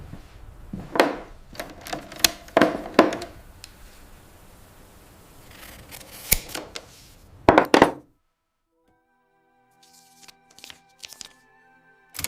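Typewriter keys struck in irregular clusters of sharp clacks, loud and close, followed by a silent gap and a few fainter mechanical taps and a thin ringing tone.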